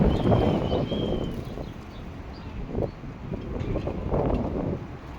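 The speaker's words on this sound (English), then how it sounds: "The wind is blowing." High wind gusts outdoors at night push through overhead wires and tall trees, a loud rumbling buffet that swells and eases in waves across the whole stretch.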